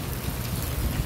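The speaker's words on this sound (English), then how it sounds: "It's raining." Steady rain hisses in a continuous wash of noise, with a low rumble underneath.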